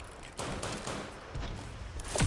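Rapid automatic turret fire in a winter raid game mode, a dense burst of gunfire sounds running through the whole moment at moderate loudness with no talk over it.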